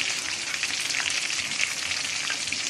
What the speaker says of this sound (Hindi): अब मैं इनको सारों को तैयार करके फ्राई करूंगी।